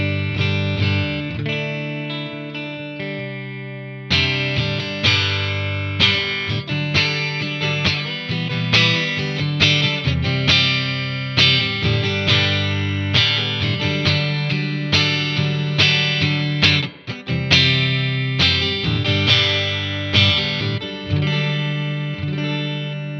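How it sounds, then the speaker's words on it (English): Electric guitar through a Blackstar Amped 1 with spring reverb plays chords and picked notes, ringing with a drippy, splashy tail and sustained tones, loud and alone without talk. "we'll put on a nice spring reverb"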